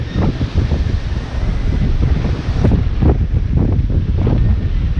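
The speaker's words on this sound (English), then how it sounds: "I'm thinking this wind is going to make it really hard to hear me talking on video" Strong wind buffets a microphone outdoors on a beach during coin detecting, a loud, continuous rumbling roar with gusty surges and no voices.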